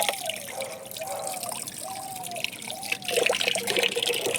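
Water trickles and drips steadily as it is mixed into homemade plant food, with a few soft sliding pours close by and a slightly fuller splash near the end.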